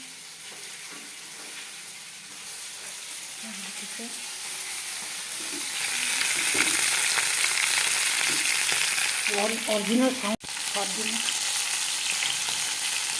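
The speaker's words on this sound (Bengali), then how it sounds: "যখন মাছ ভাজা হচ্ছে" Pieces of fish fry in a hot pan with a continuous crackling sizzle that grows louder midway, while a voice speaks briefly over it and utensils scrape now and then.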